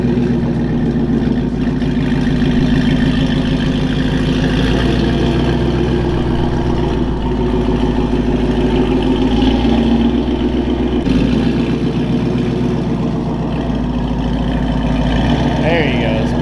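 A manual Mustang GT350R engine idles and creeps steadily onto a garage lift, a continuous low rumble held close and loud throughout, with people talking over it.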